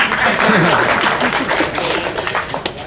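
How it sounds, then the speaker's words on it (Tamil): An audience in a hall applauds at the trailer launch of a Tamil film, a loud sustained patter of many hands clapping with crowd voices mixed in, fading slightly toward the end. "இந்த கைத்தட்டல்கள் அனைத்தும் தோழர் சேகுவாரா அந்த டீமை தான் போய் சேரும்"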